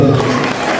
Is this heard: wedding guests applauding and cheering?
yes